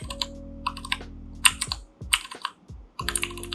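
Bursts of close keyboard typing, quick clattering keystrokes in short runs separated by pauses, heard alone over a low steady hum.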